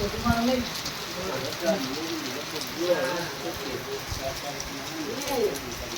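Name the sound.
rain falling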